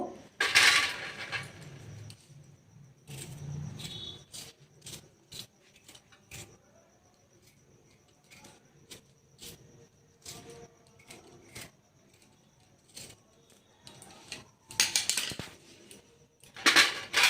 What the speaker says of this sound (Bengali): আদাটাকে ভালো করে ছুলে ঘষে নেব